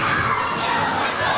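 A dense crowd at a professional wrestling championship match in High Point roars and shouts continuously, loud and full, with excited voices blending into one sustained cheer.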